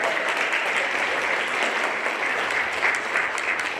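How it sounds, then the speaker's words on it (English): Steady, dense applause from an audience at a school show, a continuous wash of many hands clapping at moderate distance with no voices over it. "give Ms. Roberts another round of applause"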